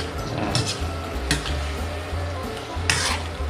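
Chicken adobo with bitter gourd and soy sauce stirred in a pan, steady sizzling and frying under repeated scraping strokes and a few clinks of the utensil against the metal pan.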